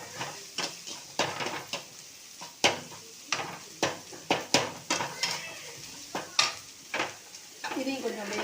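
A spatula scrapes and clacks sharply against a pan in an irregular rhythm while goat brain and green chili sizzle softly underneath, close up, no talking.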